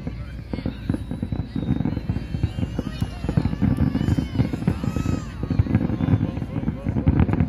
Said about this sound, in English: All the fireworks going off at once.